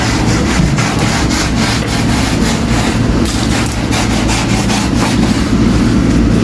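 Stiff brushing scrubs packed dirt off a cemetery tomb, a loud, continuous rasping scrape with a steady rhythm that stays close throughout.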